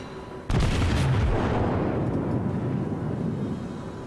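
Ship guns fire in a naval war video game, a sudden loud boom followed by a long rolling rumble and crackle that slowly fades, with no voices.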